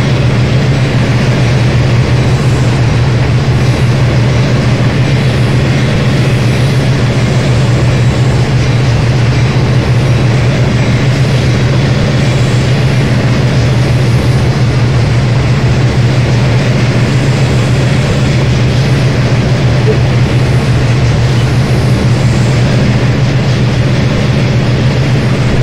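A train rolling and braking, heard as a loud, constant low mechanical rumble with a steady droning hum and broadband noise, continuous and unchanging for the whole stretch, close by with no voices.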